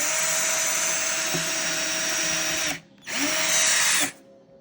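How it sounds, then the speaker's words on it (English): An electric power drill whines loudly and steadily, stops briefly for a moment, then revs up again before cutting out. "So let me grab my drill and we can get going."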